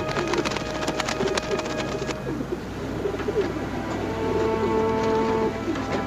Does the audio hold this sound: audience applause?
no